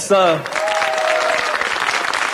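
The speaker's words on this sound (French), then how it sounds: "je vous demande de l'accueillir par les mêmes applaudissements, Monsieur Joseph De Heder" Studio audience applause on a 1990 French-language TV show greets a guest from a Mons seniors' club, a dense, steady wash of clapping that follows a short voice at the start.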